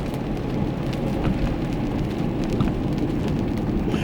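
Steady rain falls in a dense, even hiss with a low rumbling undertone, continuous throughout with no voices.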